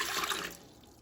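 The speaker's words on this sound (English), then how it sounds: "we will add 1 cup of water to the Instant Pot." A cup of water pours into an Instant Pot, a brief bright splashing gush that cuts off after about half a second into near quiet.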